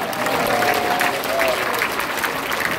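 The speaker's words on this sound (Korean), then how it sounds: "감사의 박수" An audience at a political education meeting applauds to thank a pastor for his talk: steady, dense clapping from many hands, fairly loud and sustained for the whole stretch without a break.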